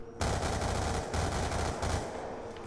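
Rapid automatic gunfire from a gun in Black Ops 2 Zombies on the Bus Depot map rattles in a sustained burst, steady and close, then tapers off near the end with no talk over it.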